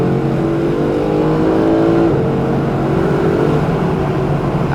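A Mercedes-Benz SLS AMG Black Series V8 engine revs hard and close, its rising harmonic tone climbing and briefly dropping before climbing again, loud and unbroken.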